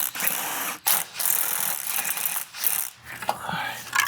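Ratcheting clicks and metallic tool work near a Chevrolet Silverado engine as the starter bolts are loosened, in short close bursts separated by brief pauses.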